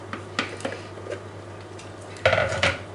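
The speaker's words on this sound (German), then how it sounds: "Rühre das Ganze einmal um." Metal utensil scraping and clinking in a pan of sauce, a few light stirring strokes followed by louder clatter near the end.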